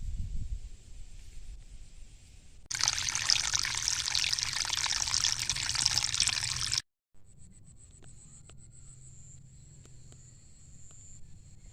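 Clear water flows in a small stream, a quiet trickle that swells into a loud, rushing pour for several seconds, then cuts out briefly and returns to a soft, steady trickle.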